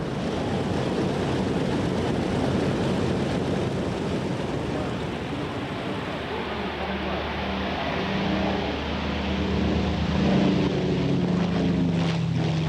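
A Grumman F7F Tigercat, a twin-engine Navy carrier fighter from the 1940s, droning past in flight, a broad continuous engine roar with a rising low tone toward the end.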